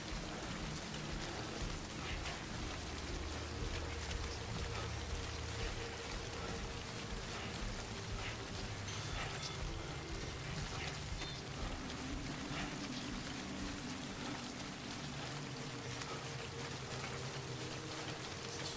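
Steady rain from the game Death Stranding, a dense unbroken hiss of falling drops that continues at an even level, alone, with no talk over it.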